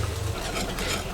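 A spoon stirs béchamel sauce in a low pot on the stove, a continuous soft scraping and bubbling texture with a faint sizzle underneath, close and steady with no voices.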